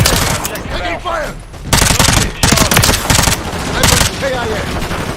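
Rapid automatic gunfire in a multiplayer shooter, close and loud, firing in repeated sustained bursts with brief gaps, while a voice speaks over it.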